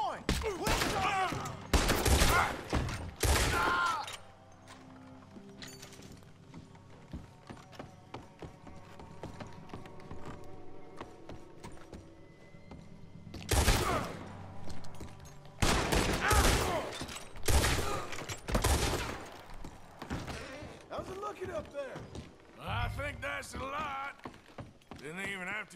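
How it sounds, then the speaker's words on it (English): Gunfire from Red Dead Redemption 2 erupts in loud bursts of shots at the start and again midway, with scattered cracks between and game dialogue and background sound running underneath. "To shoot the last one."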